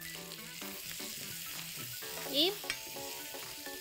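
Sausages fry and brown in a pan with steady sizzling and some stirring throughout, under a brief spoken word.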